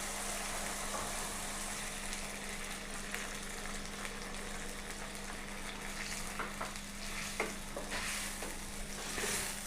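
Beef yakhni stock poured into a pulao pot of hot oil sizzles and bubbles in a soft, steady fry, with a low constant hum beneath and occasional faint clinks.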